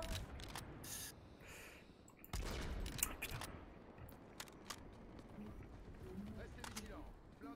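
Gunfire in the Overwatch video game, heard as bursts of sharp, clicking shots and rapid volleys at moderate loudness, with players talking over the action.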